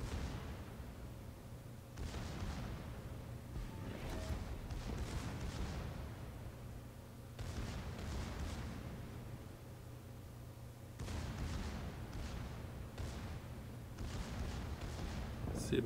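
Secondary battery guns on the battleship Bayern fire in World of Warships, bursts of distant booming shots recurring every few seconds over a steady low engine drone, fairly quiet.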